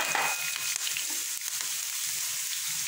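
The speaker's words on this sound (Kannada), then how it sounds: "ಫ್ರೈ ಆಗ್ತಾ ಇದೆ." Ingredients frying in a pan for a Coorg-style wild mango curry, a soft, steady sizzle with light stirring scrapes, close but fairly quiet, no voices.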